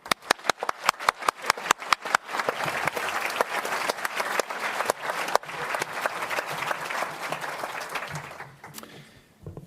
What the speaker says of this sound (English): I'm going to ask you to applaud the children